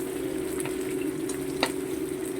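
Meat and garlic frying in a pan for Bisaya-style pinakbet, a steady close sizzle with a faint clink partway through, no talking.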